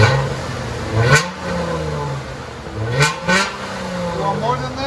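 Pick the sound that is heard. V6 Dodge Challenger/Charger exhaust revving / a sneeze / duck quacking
V6 Dodge Challenger/Charger exhaust revving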